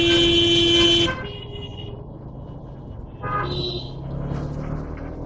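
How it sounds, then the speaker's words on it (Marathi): On a highway near a metro station, a car horn blares loudly for about a second, then steady traffic rumble continues with another horn-like toot a couple of seconds later. "ट्रॅफिक बघा मित्रांनो,"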